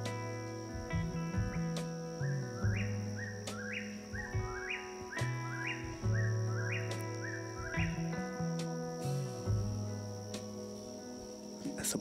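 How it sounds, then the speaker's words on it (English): A bird calls repeatedly at dusk in a state forest, a series of short rising chirps in a regular rhythm, moderately near and fairly quiet over a low steady background with some insect-like droning. "That's a bird"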